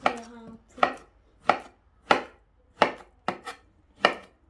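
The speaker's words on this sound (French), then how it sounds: "vous pouvez couper soit, encore une fois, en deux, ou alors couper tout simplement comme ceci" Knife chopping plantain bananas on a board, six sharp, evenly spaced cuts close by, with quiet pauses between them.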